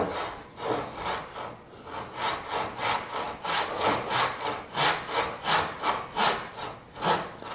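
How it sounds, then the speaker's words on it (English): A hand saw cuts through wood while hand-cutting dovetails, in steady back-and-forth strokes, a rhythmic rasp repeating about twice per second, close and clear. "Now, you see how I'm sawing beyond the line?"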